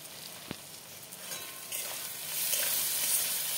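Spice paste with chopped tomato, salt and slit green chillies sautéing in a pan for a golda prawn curry with potato and pointed gourd, a steady sizzle that swells louder toward the end, with one sharp utensil tap near the start.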